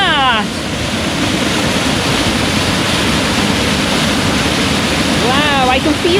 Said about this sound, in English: we're going to go and have a look at the waterfall